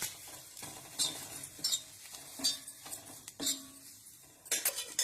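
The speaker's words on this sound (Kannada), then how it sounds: "ಈ ತರ ಹುರಿಬೇಕದು." Green chillies being roasted in a pan for chutney, with a spoon scraping and clinking against the metal in irregular strokes over a faint sizzle, close and fairly quiet.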